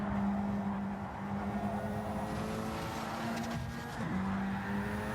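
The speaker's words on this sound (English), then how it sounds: "Massive wreck. The big one strikes again in turn one." Stock cars wreck in turn one during a strictly stock series race, with sustained tire squeal and engine roar running steadily throughout at a loud, even level.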